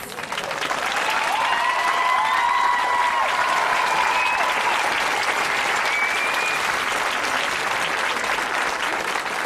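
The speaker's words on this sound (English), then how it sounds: "One more round of applause" Loud, sustained applause from a large crowd at a high school graduation ceremony, a dense steady roar of clapping with faint whistles or cheers rising above it.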